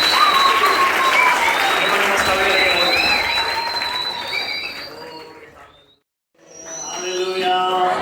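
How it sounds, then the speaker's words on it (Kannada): Loud applause from a church congregation during a worship service, sustained clapping that fades out, briefly drops to silence, then resumes, with a voice over it. "ದೇವರಿಗೆ ಜೋರಾಗಿ ಚಪ್ಪಾಳೆ ಇದೆ."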